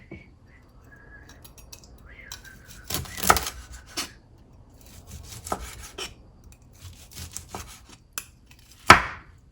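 A knife cuts through a 31-day dry-aged ribeye steak on a board with soft sawing and rubbing strokes, ending in a sharper tap, close but fairly quiet.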